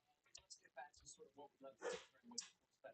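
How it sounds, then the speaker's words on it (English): Dogs barking at a distance: several short, faint barks and yips scattered under someone talking. "I hate dogs sometimes. I hate barking."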